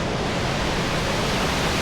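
Waterfall at Malshej Ghat in the Sahyadri, a dense steady roar of falling water, loud and unbroken with no other sounds.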